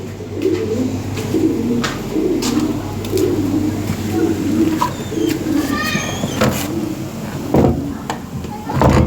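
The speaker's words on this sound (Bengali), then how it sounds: "এই যে এখানে এক জোড়া কবুতর আছে" A pair of fancy pigeons for sale coo in low, rolling repeated phrases close by, with someone talking intermittently over them.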